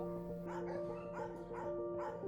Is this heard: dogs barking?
yes